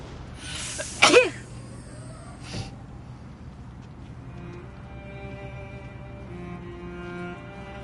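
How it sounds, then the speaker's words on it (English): In the video game Detroit: Become Human, a single sharp sneeze bursts out close by on a bus, followed by quiet background hum and a faint thump shortly after. "I feel like I'm gonna sneeze."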